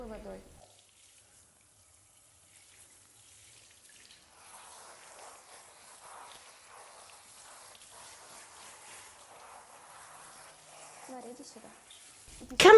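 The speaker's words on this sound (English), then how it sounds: "we thoroughly wet the dog's fur" Warm running water soaking the thick, dense-undercoated fur of a golden retriever during show grooming, a soft steady patter and trickle that stays faint and continuous, with a louder clatter at the very end.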